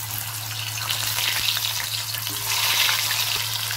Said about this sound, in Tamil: இதை நம்ம இப்போ கொஞ்சம் போட்டு பொறிச்சு பார்க்கலாம்.